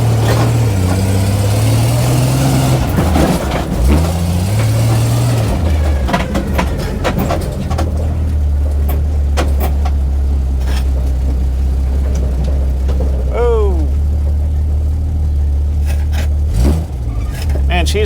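A 1980 Jeep Cherokee Chief engine runs close by with a steady low idle hum and a few revs, while people talk over it throughout.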